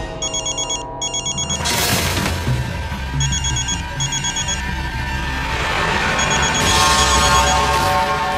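A telephone rings on and on without being answered, its repeated electronic trilling coming in short bursts over a loud, busy background.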